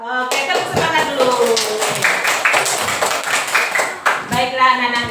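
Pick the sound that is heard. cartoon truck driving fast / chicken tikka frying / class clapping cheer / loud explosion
class clapping cheer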